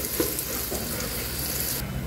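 Oil sizzles steadily in a pan while macaroni pasta is cooked, a soft continuous frying hiss at low level with a faint clink early on.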